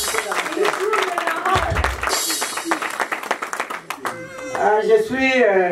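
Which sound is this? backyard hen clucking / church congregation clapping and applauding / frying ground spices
church congregation clapping and applauding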